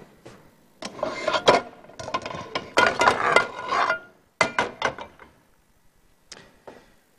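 A small frying pan holding hot olive oil is shifted and set down on a kitchen stove, giving a string of clattering metallic knocks and scrapes, loud and close, with a brief pause and then a few lighter clinks.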